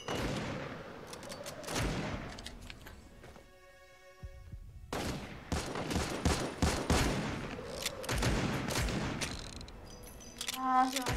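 Rapid bursts of video game gunfire with repeated shots and impacts, loud and dense, broken by a brief quieter gap with a tonal sound, then more volleys and a short sharp flurry at the end.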